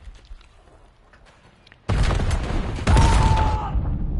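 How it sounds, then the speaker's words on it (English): A grenade blast in a competitive first-person shooter match erupts as a loud, sudden boom over quieter game ambience, followed by a sustained roar with a thin whistling tone. "Money nade from Pope again."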